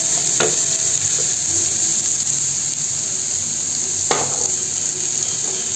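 Curry leaves sauté in a pan for a prawn fry, giving a steady close sizzle with a couple of sharp stirring scrapes of the spoon against the pan.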